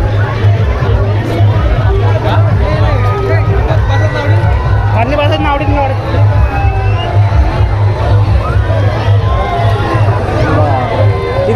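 A dense crowd packs the Baba Sailani Holi festival in Buldana, Maharashtra, producing a constant loud babble of many voices, shouts and footsteps close around, with someone speaking over the din.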